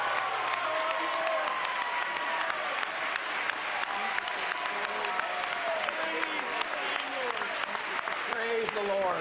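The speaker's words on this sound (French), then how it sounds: "Gloire au Seigneur, donnez-lui une main d'applaudissement." A standing church congregation applauds during a French-language service, with dense continuous clapping mixed with cheers, whoops and voices, moderately loud throughout.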